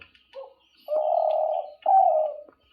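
Eurasian collared dove coos nearby, a short soft note followed by two longer, clear hooting coos in a steady rhythm against a quiet background.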